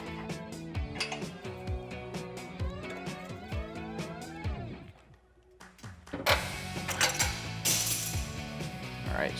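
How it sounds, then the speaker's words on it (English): A hanger removal tool works rubber exhaust isolators on a 2011-2020 Dodge Challenger R/T, giving a busy run of metallic clinks, ratcheting clicks and scrapes followed by a louder burst of rattling metal. "So I'm going to use a hanger removal tool here."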